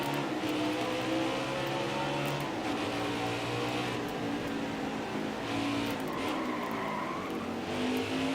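Race car engines roar continuously with tires working hard during a NASCAR Heat 5 Xfinity Series race at Mid-Ohio, several cars close together with shifting engine pitch and occasional skids, loud and steady throughout.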